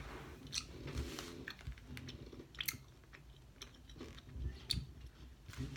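Gum chewed with bare teeth, close up: steady wet smacking and soft clicking bites repeating in an uneven rhythm, alone with no voices.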